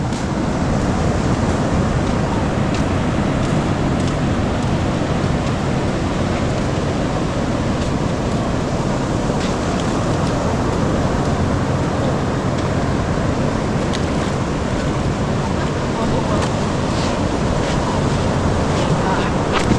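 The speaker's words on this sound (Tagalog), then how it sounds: "Ang tabing dagat ngayon ng Bukana." Sea waves wash continuously onto a beach at Bukana, a loud, steady roar of surf mixed with wind buffeting the microphone throughout.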